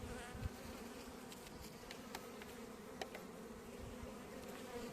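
Carniolan honey bees buzzing around a beehive entrance in an apiary on a warm winter day, returning laden with pollen; a dense, steady swarm hum with a few louder passes close by, no talking.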